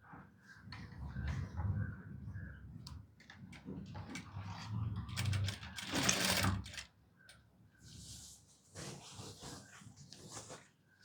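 A sewing machine stitches a straight seam on a lehenga with faint, uneven whirring bursts, and brief clatters and other small noises mix in at low level.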